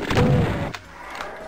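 Gunfire at zombie monsters in the video game Final Doom: one loud, booming shot opens, followed by a fainter second blast, with no talking.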